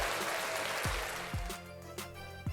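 An applause sound effect fired from a Tascam Mixcast 4 pad, a short burst of dense clapping with a few thumps from handling the pads, close and brief.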